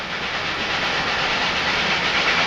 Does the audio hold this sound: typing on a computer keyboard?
no